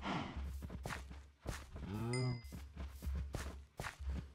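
A cow moos once in the middle of a Minecraft cattle farm, set among soft game tapping and footstep sounds, with someone talking quietly alongside.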